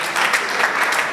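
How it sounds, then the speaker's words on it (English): A brief burst of loud, close audience applause for a judge at a Nigerian Bar Association opening ceremony, with dense clapping sustained throughout the short moment. "Please, a round of applause for Honorable Justice Ifeok Ukana."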